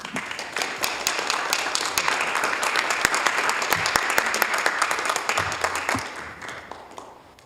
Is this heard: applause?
yes